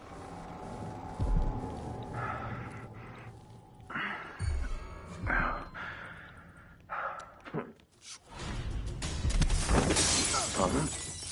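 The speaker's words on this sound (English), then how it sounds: "That sounded like broken glass." Glass shatters in the video game Dishonored 2, a loud crash with scattering shards near the end, after earlier scattered thumps and bumps.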